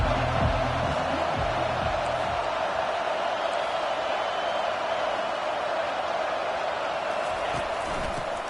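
A football stadium crowd at a Buckeyes game against Iowa roars in a steady, dense wall of sound on a big third down, sustained and loud throughout.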